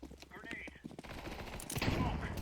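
Rapid bursts of gunfire from the video game Counter-Strike 2 crackle continuously at moderate loudness, growing denser toward the end, mixed with game sounds.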